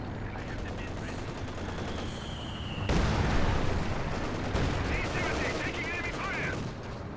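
A heavy mortar fires during a Company of Heroes 2 battle: dense gunfire and rumbling blasts grow sharply louder about midway, then keep rolling in loud, overlapping bursts.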